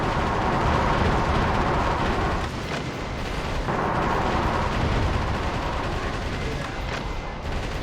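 Missile fire and explosions in the video game Metal Wolf Chaos XD form a dense, loud, continuous roar of blasts and rumbling booms with a brief dip midway.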